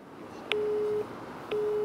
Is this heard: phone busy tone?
yes